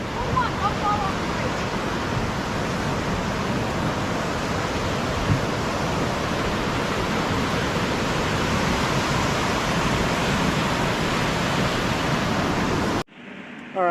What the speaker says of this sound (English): And here we have the Spokane River.